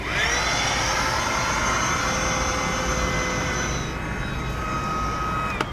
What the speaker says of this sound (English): When you're all done, it quickly deflates.